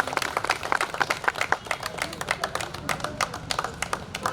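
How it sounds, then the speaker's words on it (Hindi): An audience at a theatre festival performance applauds steadily, a dense wash of many hands clapping with irregular sharper claps poking through, sustained and fairly close throughout. "अजीत राय जी के लिए 2 तालियां।"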